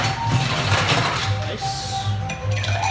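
Ice clattering into a cocktail glass at a speakeasy bar, a cluster of close, bright clinks and rattles spread over a few seconds with no talking.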